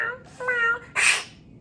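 A performer's voice imitates a cat, first a tonal, wavering meow and then a sharper, breathy yowl, close and fairly loud with no other talk.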